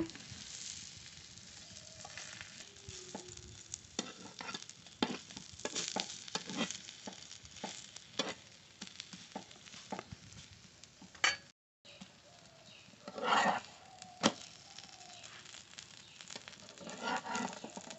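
An aloo paratha fries on a tawa, giving a steady close sizzle with scattered crackles and pops, broken by a brief pause and a few louder flips and spatters partway through.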